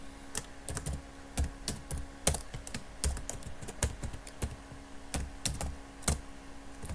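Clicky bursts of keystrokes on a computer keyboard, close and fairly quiet, tapping in irregular runs with short pauses between words.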